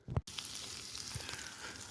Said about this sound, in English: it's cooking up some sausages then at last